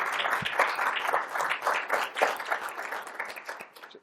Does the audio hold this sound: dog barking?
no